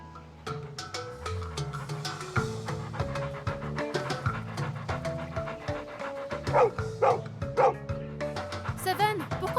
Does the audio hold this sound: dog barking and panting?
yes